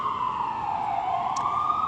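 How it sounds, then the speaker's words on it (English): An emergency vehicle siren wails steadily on a New York City street, its pitch slowly falling and rising again over continuous traffic noise, with no one speaking. "Oh my God, the sirens."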